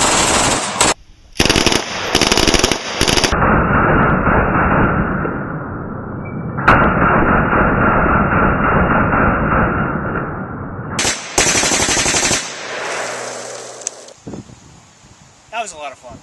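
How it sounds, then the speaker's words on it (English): Two 9mm submachine guns, an Ingram Mac 10 and an SWD Mac 11, fire full auto in loud, close bursts, with long sustained strings of rapid shots and short pauses between them. "what's better than shooting one Mac? Obviously, I'm going to say it's shooting two"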